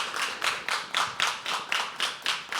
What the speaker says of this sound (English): Can I have a nice round of applause before I start?